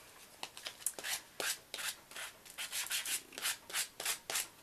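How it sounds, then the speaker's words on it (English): A candlestick being roughed up by hand with sandpaper, a close series of soft, rhythmic scratching strokes that grow more regular toward the end, with no talking. "all I'm going to do is rough it up a little bit so that it matches the distressing on the box"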